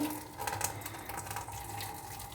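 Water from boiled pasta is strained off in a home kitchen, a steady faint trickling and splashing pour that continues evenly throughout with no talk.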